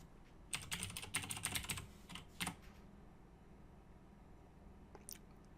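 Quick bursts of typing on a computer keyboard, a dense run of key clicks followed by a few isolated taps and then a long quiet stretch, close and fairly soft with no talking.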